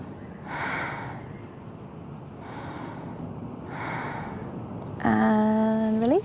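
Slow, deep breaths at rest during a seated yoga twist, three audible airy inhale–exhale cycles close to the ear, followed by a brief tonal tone at the end.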